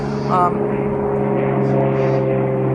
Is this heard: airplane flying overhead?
yes